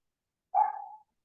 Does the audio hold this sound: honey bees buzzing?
no